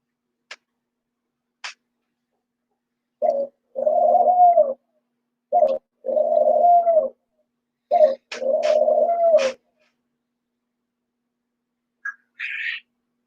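Doves cooing in a background setting near an egg incubation room: a few distant clicks, then three clear rounds of low, soft rolling coos spaced a couple of seconds apart, each with a short lead note, and a faint chirp near the end.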